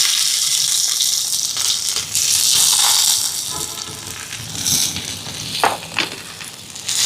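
Green chillies, curry leaves and shallots fry in sesame oil with a steady, close hiss and sizzle, brief louder crackling bursts and faint stirring rattles, and no voices.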